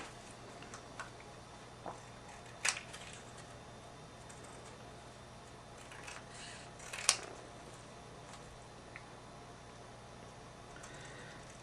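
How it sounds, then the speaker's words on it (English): Scissors trim a small piece of craft paper, giving a few quiet, isolated snips and clicks spaced seconds apart against a faint, hushed room background. "I'm going to trim this off."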